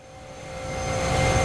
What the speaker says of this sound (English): That is the sound of a blade exceeding the speed of sound.